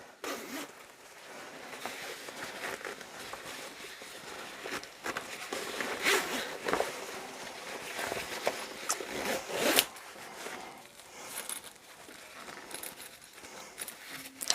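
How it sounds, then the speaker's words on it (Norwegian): A zipper on a sewn jacket is worked apart by hand, a series of close, raspy zipping strokes mixed with fabric rubbing and handling, with no talking. "Da tar jeg glidelåsen fra hverandre."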